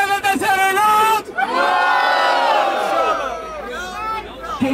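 A crowd at a Brazilian rap battle, Batalha do Tanque, roars with loud cheering and shouting, one sustained burst of yells that briefly dips and then swells again close up.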